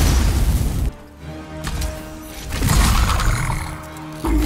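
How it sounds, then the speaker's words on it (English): A spider boss in the Demon's Souls PS5 remake unleashes fire breath: a loud, sustained roaring blast that drops away briefly, swells again in a long rushing surge, then cuts back in at the end. "Why does this spider have fire breath?"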